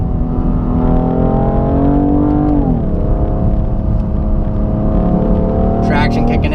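A 2017 BMW M3 with a double-clutch transmission revs hard and loud from close by. Its engine note climbs, drops sharply at a quick gear shift, then builds again steadily.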